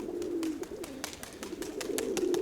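Mykolaiv pigeons coo close by, a low repeated throaty burbling with soft wing or foot taps, steady over a couple of seconds.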